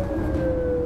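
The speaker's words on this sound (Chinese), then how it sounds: "牙主任，那个我已经在那个救护车上了，估计15分钟差不多就能到医院" An ambulance siren wails as a steady tone, moderately loud and heard alone for under a second.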